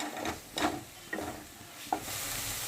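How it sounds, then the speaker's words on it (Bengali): Garlic paste and green chillies fry in a pan for a Bengali prawn malai curry, giving a soft sizzle with a few sharp spoon scrapes and stirring knocks, no voices. "5টা কাঁচা লঙ্কা দিয়ে দেব, দিয়ে মশলাটাকে ভালো করে ভেজে নেব।"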